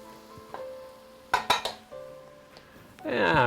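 A roux of butter and flour is stirred in a pot with a spoon, giving a quick cluster of metal clinks and scrapes and then a rising sizzle near the end.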